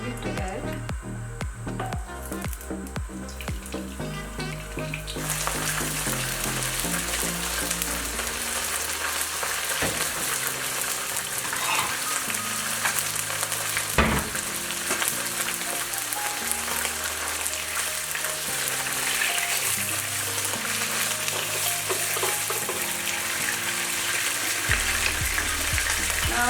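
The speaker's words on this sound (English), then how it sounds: "I'm going to add some oil to fry the prawns" Prawns fry in hot oil with a loud, continuous sizzling crackle that swells after a few seconds and holds steady, heard beneath background music throughout.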